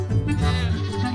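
A sheep bleats loudly and close by on a farm, one sustained wavering cry.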